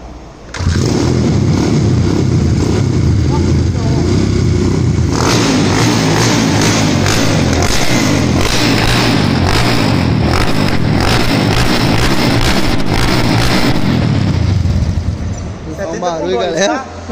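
A motorcycle engine fitted with an aftermarket cylinder kit is started in a mechanic's workshop. It catches quickly and runs loud and close, revving hard through the middle, then drops back toward idle at the end.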